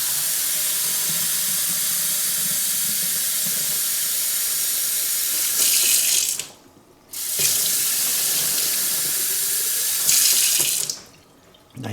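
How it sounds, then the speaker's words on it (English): Tap water gushes steadily into a dosing container for a reef tank, a loud continuous rushing stream that cuts off twice for short moments before starting again. "And then now I'll just add the water and fill it up"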